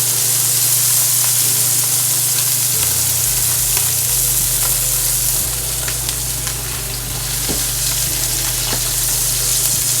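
Four lemon-topped pieces fry steadily in a hot pan, a loud, continuous close sizzle with crackling pops throughout and no talking.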